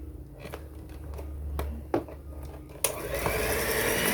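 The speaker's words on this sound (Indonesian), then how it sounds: "Akan saya mixer, ininya diganti khusus untuk tepung ya, mata mixernya." An electric hand mixer fitted with beaters for flour churns cookie dough nearby, a steady whirring hum with a few bumps and knocks, then a harsher grinding near the end.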